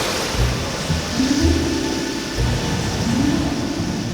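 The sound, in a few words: storm waves and heavy rain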